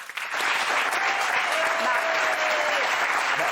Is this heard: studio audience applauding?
yes